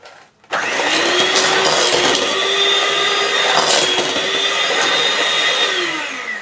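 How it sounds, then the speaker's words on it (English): An electric mixer starts up and whirs steadily as it beats muffin cake batter, a loud continuous motor drone that holds its pitch before tailing off slightly. "Let's mix it again because it wasn't mixed well."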